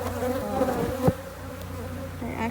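Honey bees buzz at a hive during installation of a nuc, a continuous close droning hum with one brief louder knock or bump, and no talking.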